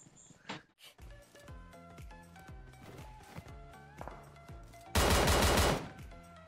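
Gunfire in PUBG Mobile on the Sanhok map: rapid bursts of automatic shots and game footsteps, closing with a loud sustained blast of noise near the end.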